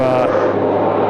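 Aircraft engines roar steadily and loudly at Sydney Airport, a continuous broadband rumble with no break.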